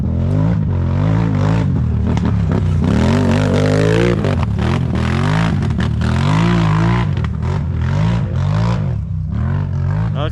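A Can-Am Renegade ATV revs hard on a rough sandy track, its engine rising and falling through repeated throttle surges, loud and close, with clattering and scraping from the terrain.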